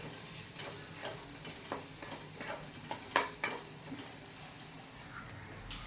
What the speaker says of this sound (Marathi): गरम मसाला आणि धण्याची पूड आपण हे सगळं एकसारखं परतून घेऊया मसाले तेलामध्ये